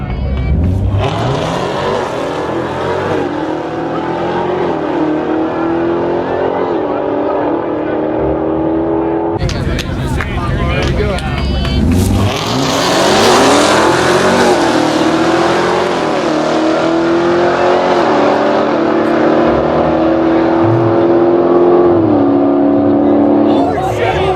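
A 2017 ZL1 and a 2013 ZL1 drag racing roar as they accelerate hard, engines rising in pitch through the gears, loud and close for a long stretch.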